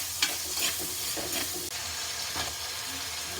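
Ginger, garlic and curry leaves fry in a pan with a steady soft sizzle, broken by a few light stirring scrapes. No one speaks, and the sound stays fairly quiet and close.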